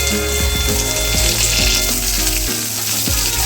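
Potatoes frying in a pan with chopped tomato just added, for a Bengali prawn curry in mustard sauce; a loud, steady sizzle runs throughout, broken by a few stirring scrapes and clatters against the pan.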